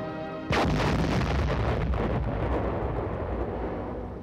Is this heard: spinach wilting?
no